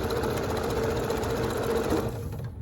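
Sewing machine stitching scrap quilt blocks together with a quarter-inch seam, a close, steady mechanical whir with rapid needle rhythm running throughout and easing off at the very end.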